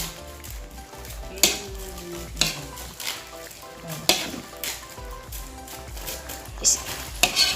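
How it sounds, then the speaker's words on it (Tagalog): Pork menudo simmering in a pot while a spoon stirs it, with repeated scraping and clinking of the utensil against the pot over a low, steady cooking hiss, close by. "simmer muna po natin siya para manuot yung kanyang lasa"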